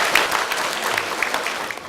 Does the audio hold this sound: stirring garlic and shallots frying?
no